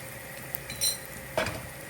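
A utensil stirs garam masala, turmeric and salt in a cooking pan for palak paneer, making a couple of brief metallic scrapes and clinks against the pan, close and quiet, with no voice.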